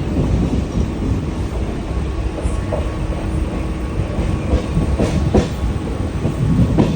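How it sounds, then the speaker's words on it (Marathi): A Mumbai local train running, heard from inside a carriage as a loud, continuous rumble with rhythmic clatter of wheels and occasional brief squeals, close and unbroken. "मुंबईच्या लोकल ट्रेनमध्ये बसलेली आहे"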